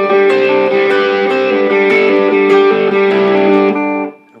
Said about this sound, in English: You need to have some distortion.